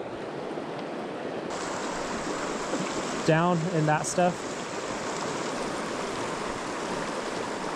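Fast current of a small cutthroat trout stream rushes as a steady broadband wash close by, continuous throughout, with someone briefly speaking over it midway.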